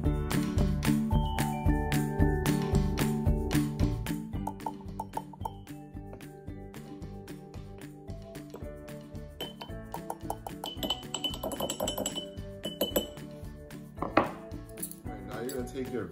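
Metal spoon scooping cornstarch into glass jars, a busy run of light clinks, taps and scrapes against glass at close range, with a voice speaking intermittently.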